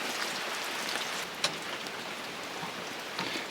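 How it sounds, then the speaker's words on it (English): Steady rain falls during a wet early-morning stretch of a Georgia backcountry trip, a soft, even hiss with a few sharper drops. It is fairly quiet and heard alone, with no voices. "I was kind of hoping the rain would blow through last night, but fat chance."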